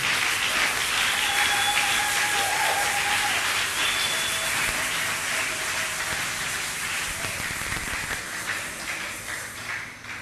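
A church congregation applauding and cheering for God, a dense, sustained wash of clapping and crowd noise that slowly fades, with a few faint tonal sounds over it and no clear speech.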